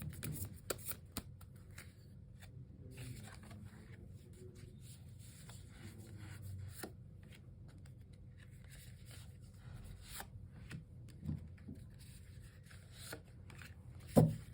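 Tarot cards are shuffled by hand at close range, giving soft, continuous riffling and rubbing that runs throughout with occasional sharper taps and a louder knock at the end.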